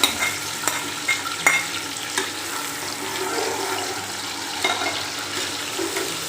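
Sliced onions frying in hot oil in a pan for a chicken kofta pulao: steady, loud, close sizzling with occasional stirring clatter, no voices.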